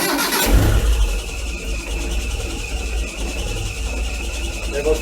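Proton Saga Iswara car engine cranking and catching, then settling into a steady low idle after fresh 10W40 oil, loud and close, with a brief sharp start burst giving way to continuous rumble.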